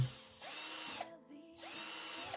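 A cordless screwdriver whirs at speed, running in two bursts separated by a short pause, close and alone.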